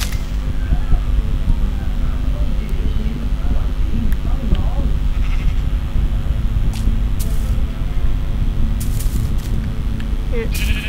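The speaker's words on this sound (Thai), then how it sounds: "ตีแกะ" Sheep bleat in the video game Minecraft, repeated calls over a dense, constant game soundscape with light tapping sounds, while a person talks throughout.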